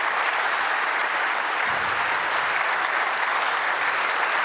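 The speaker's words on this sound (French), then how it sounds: "applaudissements nourris" Sustained, dense applause from a large audience fills an indoor conference hall after a speech by Pope Francis at an international peace conference, steady and loud throughout with no pauses.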